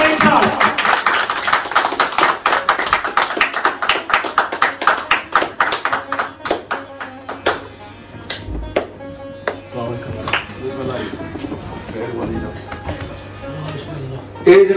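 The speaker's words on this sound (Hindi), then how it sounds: "भरपूर तालियां राजा नईम साहब।" Applause for Raja Naeem at a Patwari gathering stage, loud dense clapping in the first half that thins into scattered claps under crowd murmur and music-like tones.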